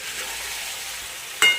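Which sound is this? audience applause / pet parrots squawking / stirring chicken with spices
stirring chicken with spices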